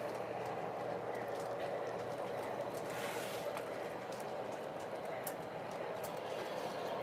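A model train with a smoking caboose runs back down into the yard of a layout, giving a steady, even rolling rumble throughout at moderate level.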